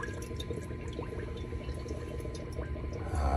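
Antifreeze poured into a small amount of ordinary water in a vessel, a steady close liquid trickle and gurgle running throughout, with a slightly heavier splash near the end.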